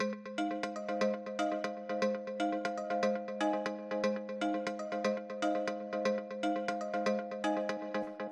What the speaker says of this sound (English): this little FM bell sound that I made